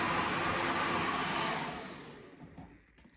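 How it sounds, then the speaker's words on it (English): Hair dryer blasting hair during blow-drying, a steady loud roar that fades off as it is switched off, with no talking. "I'm going to blast it again with the hairdryer"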